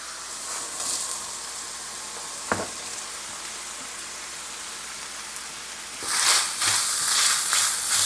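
Sausage and onions frying in a pan, a steady crackling sizzle with a sharp pop near the middle, swelling louder and brighter toward the end, with no voices.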